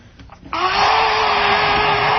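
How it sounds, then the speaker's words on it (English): A vacuum cleaner switches on and runs steadily with a loud whining motor hum, close by and with no talking over it. "Just vacuuming, making sure everything's just so."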